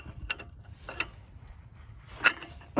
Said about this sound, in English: So I've got my ratchet and I got me a breaker bar here because it's on there tight.